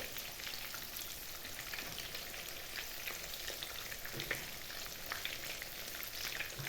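Continuous crackling sizzle of pounded chicken gizzards frying in a hot pan, close and steady, with small pops scattered throughout.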